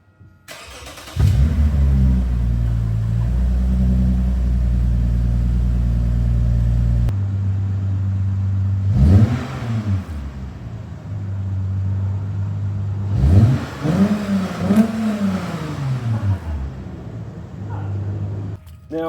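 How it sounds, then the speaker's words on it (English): Toyota Mark X GRX133 with its 2GR-FSE V6 cranking and firing up with the rear mufflers removed, a loud raw rumbling idle that drops away, then two more sharp blips of revving, each settling back to a throaty idle. "I'm gonna start her up without the rear mufflers on."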